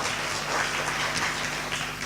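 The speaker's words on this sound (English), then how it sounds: "So another round of applause for our friend here." An audience at a paranormal research conference claps together in a steady burst of applause, fairly close and continuous for a couple of seconds.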